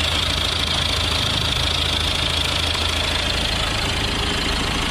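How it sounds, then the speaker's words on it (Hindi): A BMW 320d diesel engine with a cracked intake manifold idles just after starting, giving a loud, steady, rough clatter that runs without a break. "ये देखिए इंजन स्टार्ट हो चुका है, अब कैसी भी कोई प्रॉब्लम नहीं है इस कार में"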